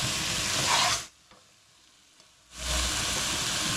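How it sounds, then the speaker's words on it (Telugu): Masala frying in a pan for soya biryani while it is stirred, a loud broadband sizzle that cuts out for about a second and a half midway, then returns just as strongly. "మధ్యలో కలుపుకుంటూ చూసుకుంటుండాలమ్మ, మాడకుండా జాగ్రత్తగా మసాలా అంతా"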